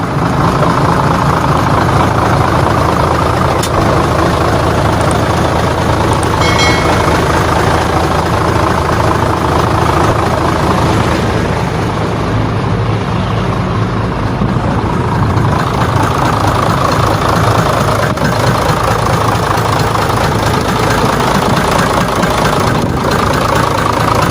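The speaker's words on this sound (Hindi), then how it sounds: "अगर आप इंजन की आवाज सुनना चाहते हैं तो मैं आवाज को ओपन करता हूँ।" A Hino truck's diesel engine idles steadily, close and loud, with an even, rumbling throb that continues unbroken for about twenty-four seconds, no talking.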